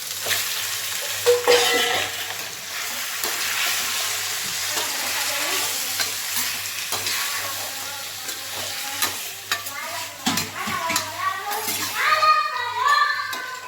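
Chicken frying in a pan with salt, curry leaves and onion, loud continuous sizzle with frequent scraping and clattering of a stirring spoon, faint background voices in places.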